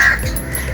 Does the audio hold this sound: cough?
no